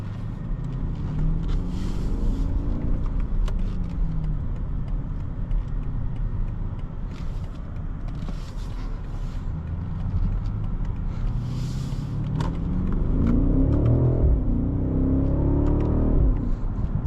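A 2024 BMW 760i xDrive accelerating on a POV test drive, heard from inside as a steady engine drone with road and wind roar that swells slightly near the end.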